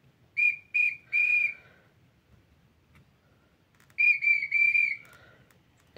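A child's whistle blown in two groups of three shrill toots, short sharp blasts with a brief pause between groups, close and piercing with nothing else around.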